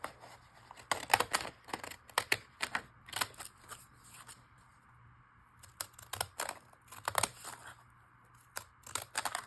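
Scissors snip repeatedly as paper is trimmed for a hexagon booklet cover, in two bursts of quick close cuts with a short quiet gap between them, no talking.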